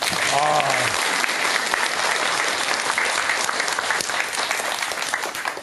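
An audience at a Buddhist dharma talk in a temple claps together in a loud, sustained round of applause that holds steady and tapers slightly at the end.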